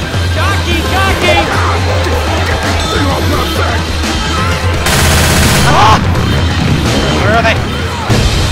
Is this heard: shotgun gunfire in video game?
yes